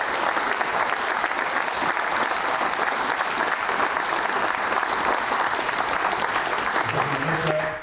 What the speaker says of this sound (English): I ask you please a round of applause for Colonel Thomas